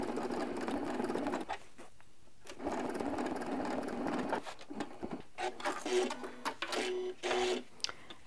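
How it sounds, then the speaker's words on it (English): A sewing machine stitches straight crosshatch quilting lines along a ruler, its close, fast mechanical chatter running in bursts with brief stops and restarts. "I'm going to show you how you use the ruler to go and stitch the next line"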